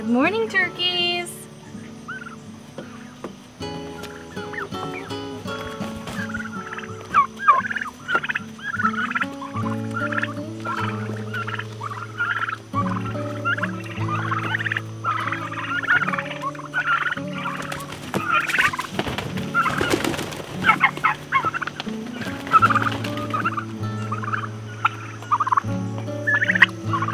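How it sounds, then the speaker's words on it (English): Young turkeys gobble repeatedly and close up in a busy farmyard flock, with overlapping warbling calls and scattered rustling throughout. "These young turkeys are growing so fast."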